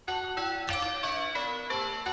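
Five church bells ring plain hunt in a tower, a steady run of loud, clear metallic strikes with long overlapping hums, each bell following the last in a changing order with no talk over them.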